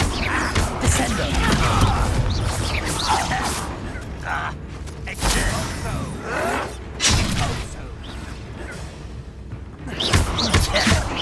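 Heavy slamming impacts from the Descendo spell in Hogwarts Legacy during a boss fight, with loud repeated thuds and crashes over a busy, dense game soundscape.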